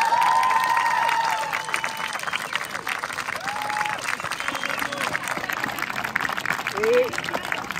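A crowd applauds steadily throughout, a dense wash of clapping with a few cheers rising near the end.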